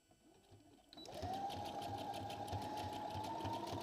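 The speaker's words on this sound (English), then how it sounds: "Now we're going to sew again." Sewing machine stitching fabric starts up after a quiet second and runs steadily, a close, continuous motor whir with rapid needle chatter.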